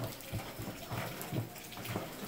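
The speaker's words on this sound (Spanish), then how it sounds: "El agua se va y se viene." Water sloshing back and forth in a continuous gushing wash, close and fairly loud, with rhythmic surges while ceviche with shrimp is being prepared.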